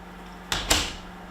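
A newly installed door swings open and shuts with two quick, close knocks about a fifth of a second apart, then fades into quiet room tone.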